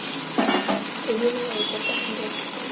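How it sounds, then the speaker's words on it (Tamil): Vegetables sauté in a pan for vegetable biryani, with a soft, continuous sizzle. A few brief stirring scrapes and light utensil clinks sound close by. "நல்லா வதங்கட்டும்"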